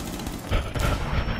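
Rapid, dense gunfire in Rainbow Six Siege, loud overlapping bursts of automatic shots packed into a short stretch with no pauses.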